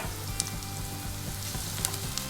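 Ginger garlic paste frying in a pan for a Kerala-style veg curry, a steady close sizzle and crackle with a few sharper pops and light stirring scrapes, no talking.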